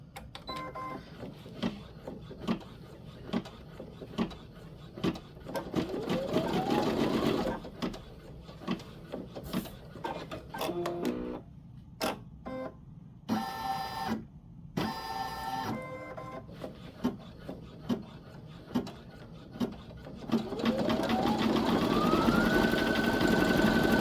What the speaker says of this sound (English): this machine will run at 850, and I have it at 7 because I don't want to run it at full speed, because I'm sewing through 2 layers